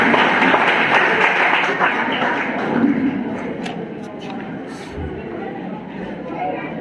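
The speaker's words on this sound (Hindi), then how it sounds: "जोरदार तालियों से आप" Students at a college cultural programme applauding loudly for several seconds, a dense, steady patter of many hands clapping that fades slightly toward the end.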